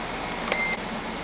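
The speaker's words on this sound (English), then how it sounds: "that beep that you just heard actually was this CD-ROM server down here, which you can see that rebooted" A CD-ROM server gives a single short electronic beep as it reboots, a faint tone lasting about a quarter second against a steady background hum.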